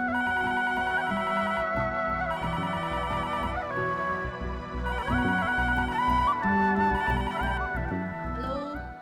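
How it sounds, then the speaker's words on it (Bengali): A telephone ringing inside a home during a Bangla TV drama scene: a loud, continuous electronic ringtone with a repeating melodic pattern that runs the full length, with no voices over it. "আরে ফোন আসছে।"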